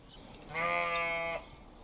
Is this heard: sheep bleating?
yes